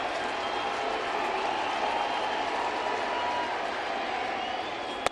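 A baseball stadium crowd during a Rockies–Tigers game, as Miguel Cabrera comes to bat: a broad, steady roar of many voices with scattered clapping, heard from within the stands and holding at an even level, with a sharp click at the end.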